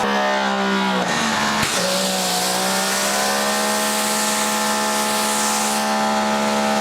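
Electric pressure washer running and spraying water, a loud steady motor whine with strong tonal hum, briefly disturbed by a sharp change in pitch near the start before settling into a constant drone.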